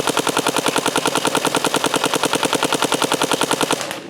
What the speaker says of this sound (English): Let's shoot the edge here of the concrete,